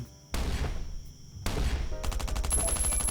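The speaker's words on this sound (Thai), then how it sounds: "มาถึงก็มีเสียงปืน" Bursts of rapid gunfire in the video game Last Island of Survival crack out in a few loud volleys, with a quick rattling sequence of shots near the end.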